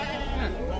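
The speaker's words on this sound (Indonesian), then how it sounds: "di depan saya ini ada kambing babonan milik Epister Bagong." A Bligon goat bleats at the Pasar Ampel livestock market in Boyolali, a brief wavering cry heard under people talking amid constant market noise.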